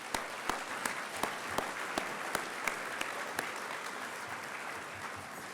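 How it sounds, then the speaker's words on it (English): An audience at a Thurgood Marshall celebration applauds, a steady, moderately distant wash of many hands clapping with a few sharper nearby claps standing out, no talking over it. "that is worthy of a moment of applause here tonight as well."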